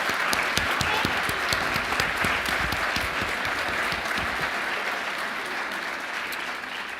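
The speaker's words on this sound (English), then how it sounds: "on behalf of myself and Mary Jane, big round of applause for all our presenters" A symposium audience on youth concussion applauds its presenters, a steady, dense wash of clapping from a full room that holds an even level for the whole stretch, heard close with no voices over it.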